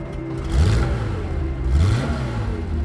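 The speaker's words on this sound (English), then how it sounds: "the sounds of the engine" An air-cooled Porsche 911 from the 1960s or 1970s gives two quick revs, each a short rising engine surge over a low idle, heard close and moderately loud.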